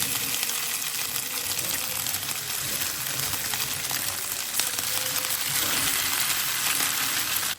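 Strips frying in overheated oil in a pan on a stove, a steady close hiss and sizzle with crackling bubbles that holds for the whole stretch with no voice over it.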